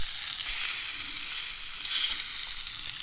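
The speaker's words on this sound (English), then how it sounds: "that trout is cooking up very nicely" Skinned trout frying in a pan with potato and tequila lime seasoning, a steady bright hiss and crackle, close and continuous with no talk.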